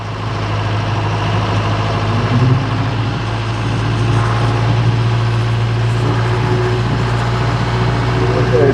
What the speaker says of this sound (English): Okay, bringing the PTO up to 540.